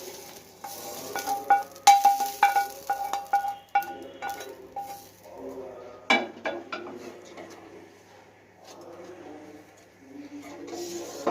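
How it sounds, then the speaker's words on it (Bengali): Rice poured into a pot of boiling milk with cashews and raisins, giving a run of soft scattered clinks and rattles followed by gentle stirring scrapes and faint bubbling, close and fairly quiet, with no talk. "এবার আমি চালটা দিয়ে দিচ্ছি।"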